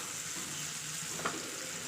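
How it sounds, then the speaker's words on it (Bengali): Chopped onion frying gently in a pan for a palak aloo dish, giving a steady soft sizzle throughout, with one brief clink or stir near the end; no voices. "পেঁয়াজ কুচিটা দেওয়ার পরে হালকা ভেজে নেব"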